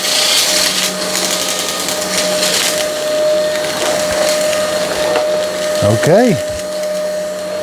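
Tikom V500 cordless vacuum cleaner running steadily and loudly close by as it sucks up scattered beads, with rattling, crackling debris pickup throughout and a short spoken word near the end.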